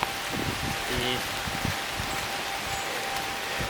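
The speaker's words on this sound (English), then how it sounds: "in Sheffield it is raining cats and dogs" Heavy rain pours down in Sheffield on a wet day beside a railway, a dense, steady hiss of falling water close to the microphone, with scattered pattering drops on nearby surfaces throughout.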